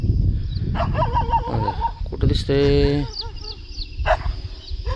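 Dogs bark in short bursts around a village on an early morning outing, some near and some farther off, with people talking over them.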